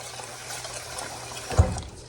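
Water is poured into a pot holding two cups of rice before rinsing, a soft continuous trickle and pour with a short splashy bump near the end, close and fairly quiet.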